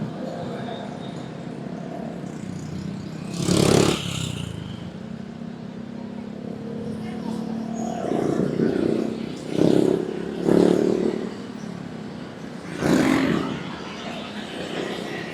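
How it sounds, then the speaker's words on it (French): Motorcycles pass through Bangkok traffic in a few louder swells over a steady low rumble, with a voice talking at points. "Les gens ici, ils roulent tous en moto, hein."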